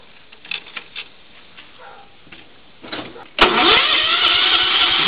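A John Deere lawn tractor engine cranks and catches about two-thirds of the way in, then runs loud and steady to the end, after quieter clicks and handling noises at the start.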